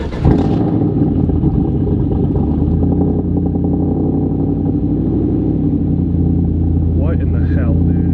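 A cammed, lifted 450 hp Chevrolet Tahoe V8 idles just after startup, a loud, close, continuous rumble that holds steady the whole time.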